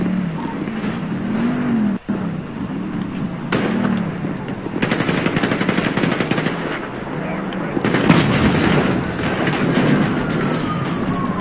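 Rapid gunfire bursts rattle during a shootout with officers in a police video game, repeated automatic volleys over a siren-like wail and background engine noise.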